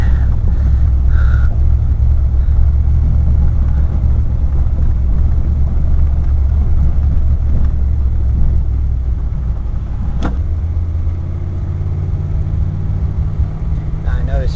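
A wood gasifier-fuelled truck engine held in first gear, a loud continuous low rumble from inside the cab, with a sharp click near the end before the engine tone shifts slightly.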